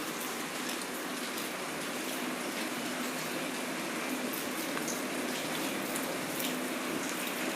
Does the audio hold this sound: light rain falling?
yes